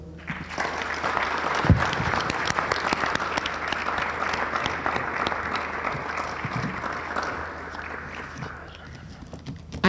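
A conference audience at a marketplace summit applauds the morning session presenters, sustained close clapping from many hands with a few louder claps, no talk over it.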